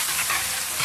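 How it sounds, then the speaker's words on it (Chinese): Bean paste, soybean paste and other sauces stir-fry in hot oil in a wok, giving a brief, steady, close-up sizzle with the scrape of stirring. "来点豆瓣酱，炒出红油，黄豆酱、猪侯酱，炒香，炒出它们的香味。"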